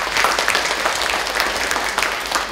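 A hall audience at a cancer prevention day ceremony claps in a loud, sustained burst of applause with no gaps, and no voices rise above it.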